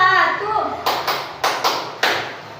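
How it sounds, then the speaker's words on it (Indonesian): A classroom group performs a patterned spirit cheer, with a voice speaking at the start followed by about five sharp, separate claps in an uneven rhythm, close and fairly loud. "kita tepuk semangat dulu ya"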